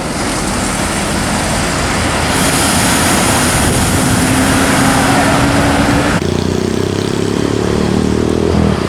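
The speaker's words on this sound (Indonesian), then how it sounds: "Bus pariwisata TPTC Cemoy balik maning ya." A tour bus passes on an Indonesian roadside, its engine and tyre rumble building and fading over steady traffic noise, loud and close.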